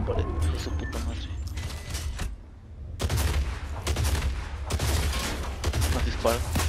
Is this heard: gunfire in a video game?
yes